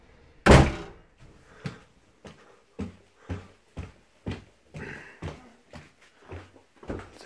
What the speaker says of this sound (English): Then we have a door here,